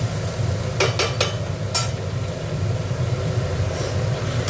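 A Bengali steamed prawn dish (chingri bhapa) with green chillies bubbles in a pan, giving a steady low simmer with a few brief clinks of utensils near the start, close and continuous.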